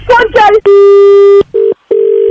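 A telephone makes a call: a short burst of talk, then a long steady dial tone followed by two shorter beeps with gaps between them, loud and close.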